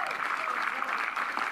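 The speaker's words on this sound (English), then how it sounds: "Crowd applauding the point we just saw on full display here between these two teams" A crowd at a pickleball match at the CIBC Texas Open applauds a point, a brief dense burst of clapping close and steady throughout, with no distinct voices.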